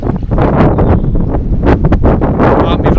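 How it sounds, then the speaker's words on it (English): Wind gusts steadily across an open field beside rippling water on a cloudy summer day, a continuous loud rushing buffeting the microphone with brief dips, no talk. "Oh, wind's picking up."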